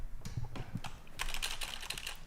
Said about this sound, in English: Hope the keyboard sounds came through.